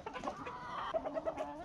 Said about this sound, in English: And is that a rooster?